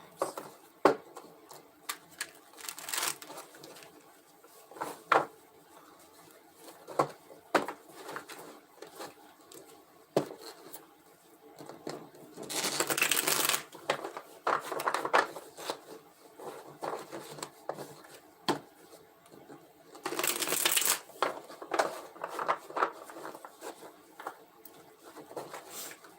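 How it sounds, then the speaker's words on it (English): Soft papery riffling and light slaps of tarot cards being shuffled, with short louder bursts of quick shuffling recurring across the clip, close and quiet. "let me shuffle a couple more times"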